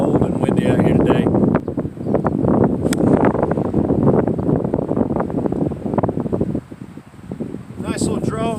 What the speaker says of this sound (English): It's seriously cold and windy out here today.